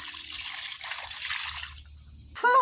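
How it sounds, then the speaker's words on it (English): Laundry water poured out onto a garden, a steady splashing trickle that runs for about two seconds before fading, then a brief clatter at the end. "So I'm going to use all of this laundry water in my garden"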